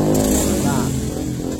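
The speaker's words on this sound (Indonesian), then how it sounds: "Jadi ketika kita membuka gas, posisi di putaran bawah, antara putaran gas sama RPM mesin itu tidak balen ya" A Honda Beat fuel-injected scooter engine running at low RPM, its revs rising and falling unevenly with a loud, close, buzzing drone, while someone talks over it.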